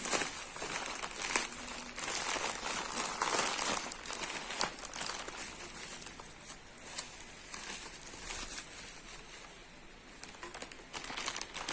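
Thin plastic crinkles and rustles continuously at close range, with scattered sharper crackles as it is handled and pulled open, and no talking.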